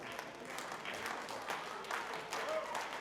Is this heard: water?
no